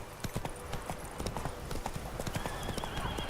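Roach the horse gallops in The Witcher 3, its hooves pounding in a rapid, rhythmic clip-clop that stays close and steady, with a faint whinny in the mix.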